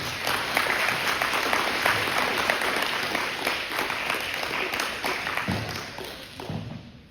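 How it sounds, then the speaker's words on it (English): A crowd at a school assembly gives a round of applause for the volunteers, many hands clapping in a steady, fairly loud burst that thins and fades toward the end. "So a round of applause for those that help, especially our volunteers."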